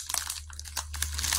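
Small plastic baggies crinkle and rustle as they are handled up close, a steady run of crisp crackles with a low background hum.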